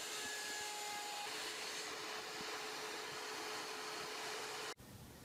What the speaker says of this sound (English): So here I'm going to apply some random router bits.